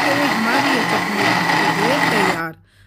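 An electric mixer grinder whirs loudly and steadily, blending green chickpea chutney into a paste, then cuts off abruptly near the end, leaving near silence.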